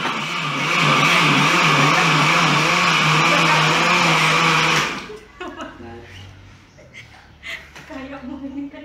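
A blender whirs loudly and steadily for about five seconds, blending jackfruit for homemade ice cream, then stops abruptly, leaving quieter clatter and voices talking.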